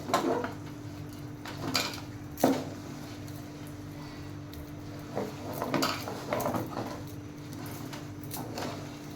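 A pot of chicken biryani being stirred over a low flame, spoon clinks and scrapes against metal coming in scattered bursts over a faint steady background hum.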